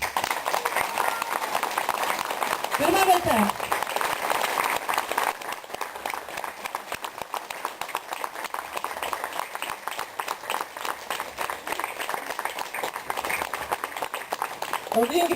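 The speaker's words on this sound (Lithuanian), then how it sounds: "Audringi plojimai" Applause from an audience at an aviation photography award ceremony, steady clapping filling the room throughout, with a host speaking over it near the start.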